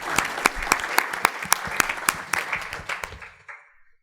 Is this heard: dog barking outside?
no